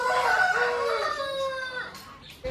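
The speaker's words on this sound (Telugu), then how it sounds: "ఈ పుంజు గురించి చెప్పండి" A one-year-old rooster weighing about 3.5 kg crows once, loud and close, in a long drawn-out call that rises and then trails off, with no other sound around it.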